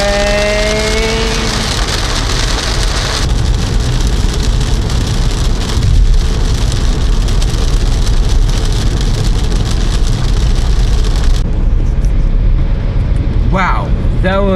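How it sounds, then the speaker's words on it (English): Heavy rain pounds down steadily through a brief but intense thunderstorm, a dense continuous roar that stays loud throughout, with excited voices exclaiming over it. "That's a lot of rain. That's a lot of rain."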